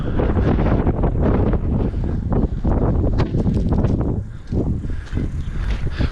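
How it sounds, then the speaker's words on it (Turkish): Heavy gusts of wind batter the microphone outdoors in Cizre, Şırnak, in loud, rumbling bursts, easing briefly near the end before surging again. "Çok rüzgar var yalnız ya."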